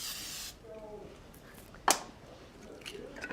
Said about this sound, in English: So spray that pan with some oil.